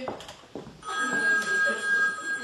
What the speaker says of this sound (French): Josiane, téléphone